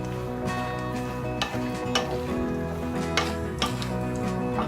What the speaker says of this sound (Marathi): ढवळत राहायचं चांगला जी आपली फोडणी जी आहे ती चांगली ढवळत राहायची